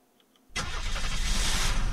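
A race car engine in the game Unturned suddenly starts and roars loudly, holding a steady, rough, close-up rumble after a brief quiet moment.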